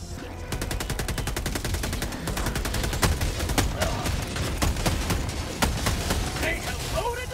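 Rapid gunfire in the video game Helldivers 2: a long, dense run of sharp shots stacking into a continuous fusillade, with heavier booms among them over steady game noise.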